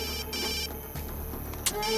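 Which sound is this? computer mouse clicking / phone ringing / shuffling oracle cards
phone ringing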